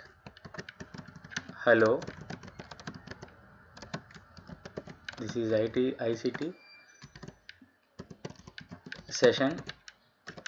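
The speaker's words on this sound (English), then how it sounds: "I am typing like" Fingers type on a computer keyboard in a steady patter of quick, light clicks. A person talks over the keys at intervals, and the typing continues between and beneath the speech.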